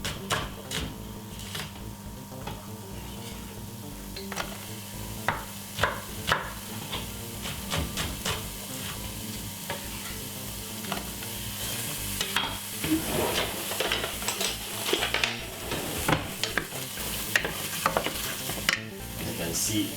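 Two medium white onions sizzle steadily in a dry pot with no oil, with frequent scraping and clacking strokes of a utensil stirring them, close and continuous throughout.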